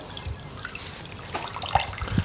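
Water trickles and drips as it drains from a Moyu portable folding washing machine. The sound is soft, steady and close, with a few louder drips near the end.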